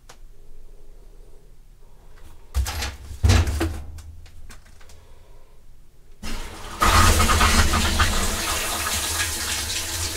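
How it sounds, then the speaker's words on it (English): A washing machine fills with water: a steady, loud hiss after a few clunks and bumps, continuing without pause to the end. "Now we'll kick the washer on, let some water run in"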